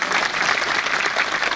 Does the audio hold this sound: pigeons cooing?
no